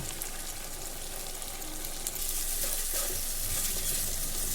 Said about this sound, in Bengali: রসুন আর আদাটাও ভালো করে ভেজে নিলাম তেলের মধ্যে